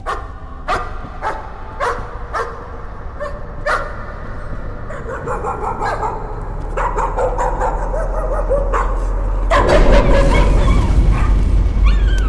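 A dog barks repeatedly in the horror game Layers of Fear, sharp yelps and barks over a low eerie drone and ambience that swells louder toward the end.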